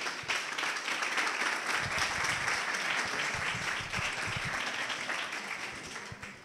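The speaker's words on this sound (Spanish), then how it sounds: "Un aplauso para ellos." An audience applauds two university researchers being introduced at a PechaKucha Night in Salamanca, steady clapping that carries on for several seconds and thins toward the end.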